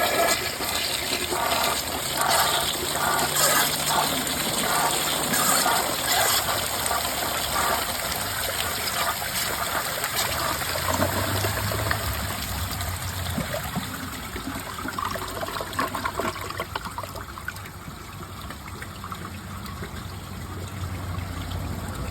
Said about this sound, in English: That was really interesting to see how this toilet flushed on a mid tank.